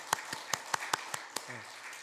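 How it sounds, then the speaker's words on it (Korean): A church congregation at a Christmas Eve service gives a short burst of applause, about seven sharp evenly spaced claps heard fairly faint in the room before a brief low sound ends it. "박수로 환영하도록 하겠습니다."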